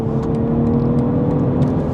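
A BMW M440i engine pulling under light throttle on the highway, a steady, loud, droning hum inside the cabin with no talking.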